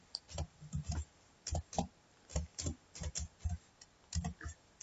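Python code is typed on a computer keyboard in short bursts of close, crisp key clicks with brief pauses between words, no voice over them.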